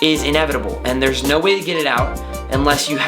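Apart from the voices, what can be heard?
No distinct noise like a dog, phone or traffic.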